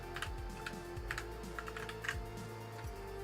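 Steady clicking of fingers typing on a computer keyboard, a quick irregular rhythm of soft keystrokes heard close and fairly quiet with no talking.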